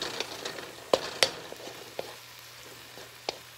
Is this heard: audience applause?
no